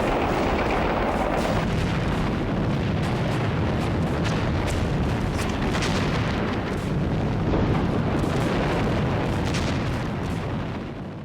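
Heavy Japanese gunfire and artillery in a WWII Pacific island battle, a dense, continuous roar of overlapping shots and booms, loud and close, sustained for the whole stretch without letup.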